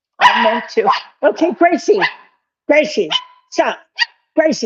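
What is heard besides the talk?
dog barking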